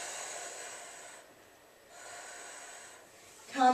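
Slow, audible breaths during a yoga stretch, drawn in long airy waves close to the microphone, ending in a sharper snort-like exhale.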